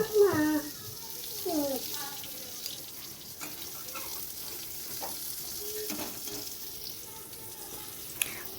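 Slices of pointed gourd (potol) fry in oil in a village kitchen, giving a faint, steady sizzle with a few soft clinks. A voice-like tone appears briefly near the start.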